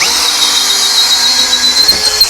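A KYOAL KY6065 power drill running at speed 1 as it bores through material, a loud steady high-pitched whine with a thin squeal, constant and close, no voices.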